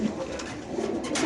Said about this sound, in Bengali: এখানে আছে মুক্কি কবুতর